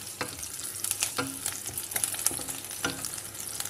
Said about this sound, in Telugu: చూడండి ఇది కొంచెం వేగినాయి కదా.